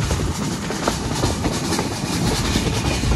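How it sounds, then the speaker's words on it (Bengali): The Sundarban Express passenger train running between Chuadanga and Jashore, heard from on board: a loud continuous rumble with rhythmic clatter of wheels over rail joints and steady wind noise. "চলেছে আমাদের ট্রেন যশোরের উদ্দেশ্যে, খুলনার গন্তব্যস্থল"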